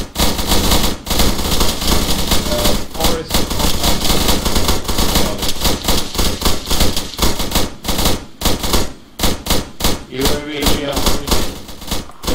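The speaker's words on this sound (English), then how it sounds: "Just lots of fire down range in just a second" Heavy, sustained automatic gunfire in a video game fills the whole stretch, dense overlapping bursts with brief gaps, loud and close, with faint voices underneath.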